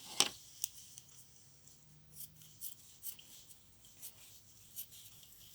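Scissors snip away excess quilt binding fabric close by in a quiet sewing room. There are several soft, separate cuts and light handling rustles spread over a few seconds, with one sharper snip at the start.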